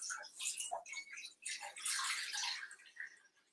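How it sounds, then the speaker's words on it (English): Water splashes and trickles into the bottom of a pot beneath an inverted bowl and plate set up for steaming, coming in soft, uneven gushes with small drips, faint and close. "right now I'm gonna put some water in the bottom."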